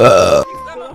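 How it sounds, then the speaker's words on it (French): A man's loud, close burp, deep and rough, lasting under half a second, then a quieter vocal trailing off. "Je vais roter pour la peine."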